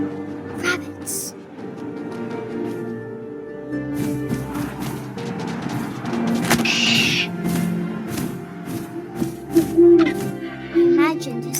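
Owl hoots in What Remains of Edith Finch, a few soft calls over a steady bed of wind and ambient game sound, with a voice present throughout.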